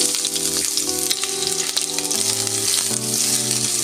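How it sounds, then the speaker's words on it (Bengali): Chopped onion fries in hot mustard oil for a Bengali singara filling, giving a steady, dense sizzle throughout, close and fairly loud, with a sustained tonal hum from music or a fan underneath. "তেল গরম করে নিতে হবে তেলে আমি দেব পেঁয়াজ কুচি"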